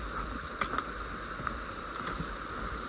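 Mountain river flowing near a trail in New Hampshire's Presidential Range, a steady rushing wash with a few brief splashes, moderately close and alone.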